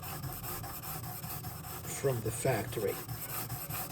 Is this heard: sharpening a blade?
yes